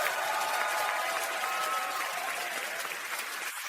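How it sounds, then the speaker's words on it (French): Loud, dense applause from a church congregation at a Singapore service fills a few seconds, an even roar of many hands clapping without a break. "Puis-je voir vos applaudissements puissants et entendre votre amen le plus fort?"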